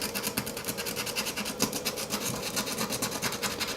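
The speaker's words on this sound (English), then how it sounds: "sand off the end of your batteries." Rough, rhythmic rasping as sandpaper scuffs the metal ends of NiMH batteries, a steady back-and-forth scrub heard up close with no talking.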